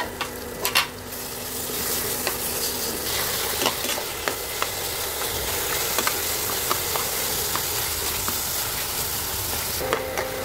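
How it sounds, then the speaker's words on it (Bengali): Minced chicken fries in a pan with a steady, close sizzle that stays even throughout, broken by a few sharp crackles and spatters near the start and end; no one speaks. "কিছুটা ভাজা ভাজা করে এর মধ্যে দিয়ে দিব কিমা করে রাখা মুরগির মাংস"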